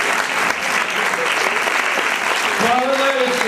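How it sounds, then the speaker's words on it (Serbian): Audience applause fills a hall at a commemorative event, a dense, steady clapping held at even loudness throughout, with a voice briefly rising over it near the end. "molim jedan veliki aplauz za Eržebet Sekelj."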